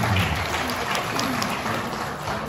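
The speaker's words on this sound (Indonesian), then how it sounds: "Dan ya, kacabin seperti ini yang saya harapkan. Tepuk tangan." Applause at an education office year-end gathering: a crowd claps in a dense, even wash of sound at moderate distance, with faint voices underneath.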